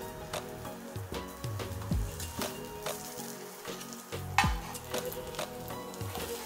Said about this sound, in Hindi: तो इसी तरह से सारी टिक्कियों को फ्लिप करके पकाते जाइए